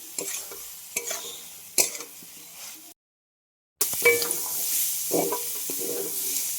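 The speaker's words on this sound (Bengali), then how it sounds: "এবার দিয়ে দেবো আলু ভাজা আর সয়াবিন ভেজে রাখবো। ভালো করে কষিয়ে দেবো।" Prawns, fried potatoes and soybean chunks stir-fried with spices in a pan, loud close sizzling with scraping stirs and spoon knocks, cut off by a brief silent gap before the frying resumes.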